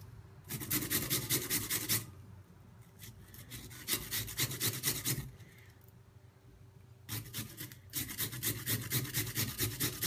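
A raw potato scraped against a grater to extract its juice, rapid rhythmic rasping strokes in several bursts separated by brief pauses, close and fairly loud with no talking.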